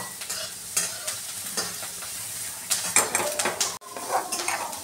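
Chili powder and pickle masala stirred into hot oil for amla pickle, with a spoon scraping and clinking against the pot in quick irregular strokes over a soft sizzle, close and loud.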